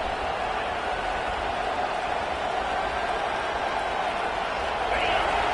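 A football stadium crowd roaring on third down, a steady dense wall of cheering noise that holds loud and even for several seconds, swelling slightly near the end.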